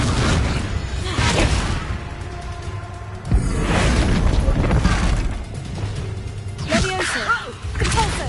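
In Hogwarts Legacy, fiery Confringo spell blasts erupt in battle as a series of loud booming whooshes and crashing impacts, several bursts in a few seconds, layered with in-game voices and combat effects.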